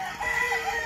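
A rooster crows once, loud and close, among many gamecocks kept at a rooster farm, a single sustained cock-a-doodle-doo with no talk over it.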